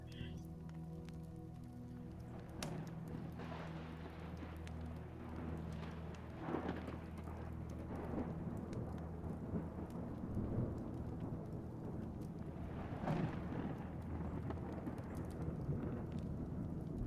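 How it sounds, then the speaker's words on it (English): A thunderstorm with steady rain hisses throughout, broken by several rolling thunder rumbles that swell and fade over a low, constant hum. "We connect to the thunders and the lightning of the planet Jupiter."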